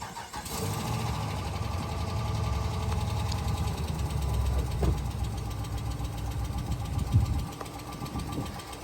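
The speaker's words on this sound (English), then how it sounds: "So it just has a bad lifter." Car engine with a bad valve lifter starting and running close by, a rough rumbling idle with a steady knocking tick throughout, no talking.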